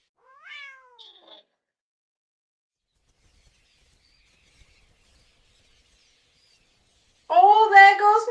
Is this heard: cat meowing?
yes